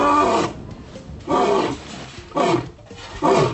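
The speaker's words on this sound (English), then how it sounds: "There's nothing quite like waking up to the roar of a lion" Big-cat sanctuary lion roaring in a series of four deep, rough bursts, each about a second long with short pauses between, close and loud.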